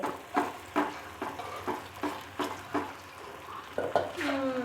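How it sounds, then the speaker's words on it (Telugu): Uppu rotte flatbread cooks in hot oil in a pan, with a steady oily sizzle broken by regular clinks and scrapes of a utensil against the pan. "ఇప్పుడు నూనె కాలే బాండట్లో వేసుకోవాలి అంతే"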